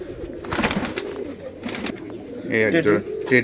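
Giribaj pigeons at a large pigeon farm, soft cooing calls close by with a brief burst of rapid coos near the end, while people talk over them.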